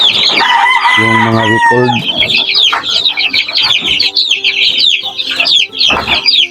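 White streamer Kanawayan chickens cluck loudly and close up, with a rooster crowing and chicks peeping busily throughout while someone speaks briefly.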